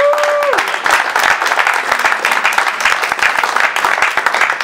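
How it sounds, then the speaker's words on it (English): Steady audience applause with scattered whoops at a celebrity boxing press conference, dense clapping throughout, with a brief tone at the start. "let's give it a round of applause"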